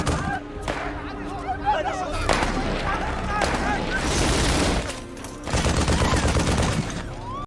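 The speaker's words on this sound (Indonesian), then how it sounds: "tim SWAT langsung memberi serangan belasan ke arah sniper tersebut." Film gunfire as a SWAT team shoots at a sniper, bursts of loud rapid shots and booms in clusters over several seconds, mixed with someone narrating over the action.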